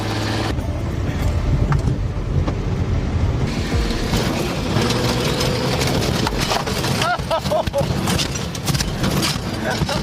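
Datsun drag racing against other hot rods on a drag strip, engines roaring loud and dense throughout with mechanical rattle and crowd-like background noise, people talking over it.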